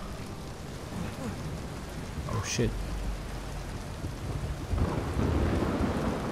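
Heavy rain and rolling thunder in the video game Uncharted 4. Dense, steady rainfall fills the scene, and a deep thunder rumble swells near the end. A voice briefly exclaims over the storm.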